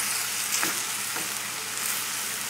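Onions and cremini mushrooms fry over a high flame with a dense, continuous hiss and crackle, close up, with faint stirring scrapes and no talk.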